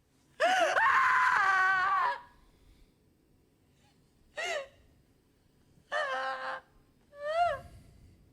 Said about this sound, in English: The number one scream.